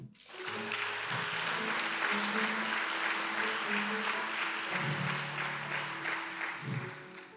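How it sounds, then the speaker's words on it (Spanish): A church congregation claps together in praise of the Lord during a sermon, a dense sustained wash of many hands that swells quickly, holds steady, then eases off, with faint tones underneath. "Dele un aplauso al Señor."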